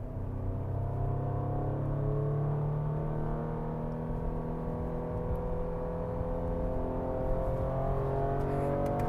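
A 2025 Ford Explorer ST three-row SUV accelerates hard in sport mode, its engine rising in a steady, loud drone with climbing pitch from inside the cabin, and no voices over it.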